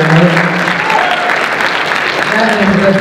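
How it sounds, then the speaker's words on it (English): An audience at a brony convention music panel at Las Pegasus Unicon 2013 gives a loud, dense round of applause, with voices mixed into the clapping throughout. "Give him a round of applause."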